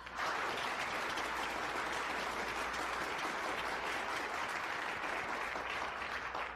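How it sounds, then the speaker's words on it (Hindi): Audience applause welcoming a debate team onto a competition stage, a steady, moderately distant wash of many hands clapping throughout, with no talk over it. "तालियों से स्वागत कीजिए टीम 235 का।"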